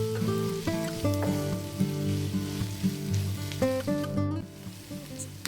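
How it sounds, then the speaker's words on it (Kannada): Onions frying in a pan with salt make a soft, continuous sizzle beneath tonal background music, with no voices. "ನೋಡಿ, ಈರುಳ್ಳಿ ಇಷ್ಟು ಫ್ರೈ ಆದರೆ ಸಾಕು."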